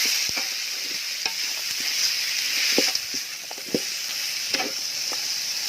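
Field rat meat stir-frying in a hot pan for a Thai rat curry, a steady gentle sizzle with scattered soft scraping and clinking of the spatula.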